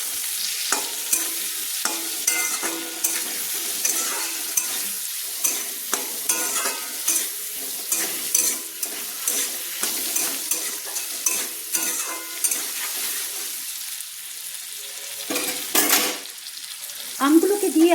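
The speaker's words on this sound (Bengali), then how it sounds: "দিয়ে ভালো করে নেড়ে চেড়ে নিচ্ছি।" Rui fish fries with raw mango and mustard in a pan, stirred continuously with a utensil that scrapes and clinks over a steady, soft sizzle, with louder scraping strokes near the end.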